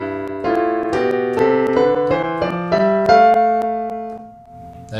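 A piano played with both hands together, a series of ascending paired notes struck one after another and left ringing before fading away, with no talking.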